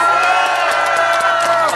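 A large crowd cheers and whoops continuously at a political press conference in Busan, a loud, dense roar of voices with no pauses.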